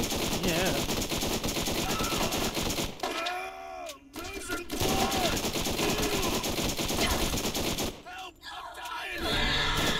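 Loud, sustained automatic gunfire from a first-person shooter video game fills most of the stretch, broken by two brief pauses, with players shouting over the shots.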